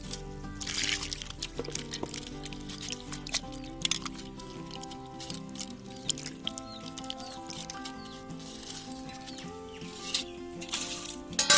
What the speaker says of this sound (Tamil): இந்த 3 கிழங்கையுமே நல்லா தண்ணி ஊற்றி சுத்தம் பண்ணி கழுவி எடுத்து வச்சுக்கலாம்.